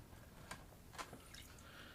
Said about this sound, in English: Sounds like my water's leaking